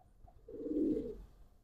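Indian Kaldom pigeons give a single low, rolling coo that swells and fades over about a second, close by and fairly soft, with faint background murmur.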